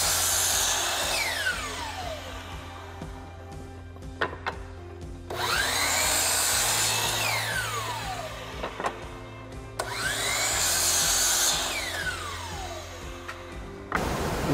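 Power saw cuts a wooden table leg to length, three separate loud cuts each rising and winding down, with short quiet pauses and light handling knocks between them.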